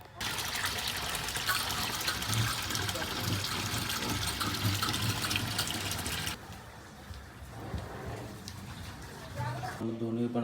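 Municipal tap water flows in a thin stream into metal pots and vessels, a continuous splashing trickle that drops to a softer pour partway through, with faint background sounds.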